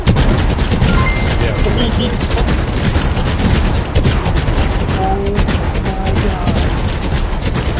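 Fireworks going off in the video game Fireworks Mania, a dense, continuous barrage of crackling pops and booms filling the whole stretch, with people talking and exclaiming over it.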